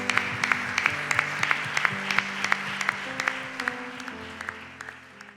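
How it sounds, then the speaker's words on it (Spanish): Church congregation clapping in a steady rhythmic beat over soft sustained music, the claps moderately loud and evenly spaced, growing a little quieter toward the end. "¿Por qué no le das un fuerte aplauso a nuestro Rey?"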